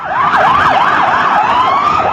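Ambulance siren wailing loud and close on a busy street, a steady rising-and-falling electronic tone sweeping continuously, alone with faint road noise beneath.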